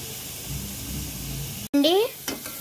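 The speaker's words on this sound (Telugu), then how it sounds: "నూనెలో మగ్గిపోతుంది." Beetroot cooks in hot oil for a chutney with a soft, continuous sizzle. A sharp click and a brief tonal, voice-like sound follow partway through.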